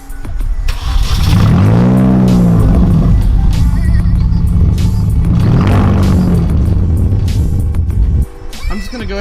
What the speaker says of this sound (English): this car sounds horrible straight piped